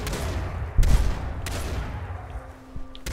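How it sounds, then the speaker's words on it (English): Shotgun blasts in a first-person video game, two or three heavy booming shots spaced about a second apart, loud and close, with no one speaking over them. "Let me switch to the shotgun."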